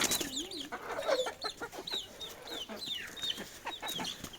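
Several Fayoumi hens cluck and squawk close by in a busy, overlapping chatter that continues without pause.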